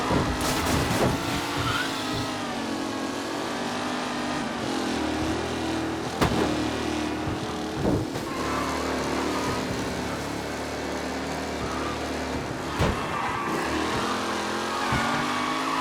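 Race cars roaring past in the video game Mafia Definitive Edition, a continuous loud engine drone with rising and falling revs, brief tire squeals and sharp knocks, no talk.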